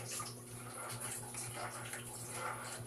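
Tap water runs steadily into a basin while ingredients are rinsed for pancit palabok, a continuous close splashing rush with no voices over it.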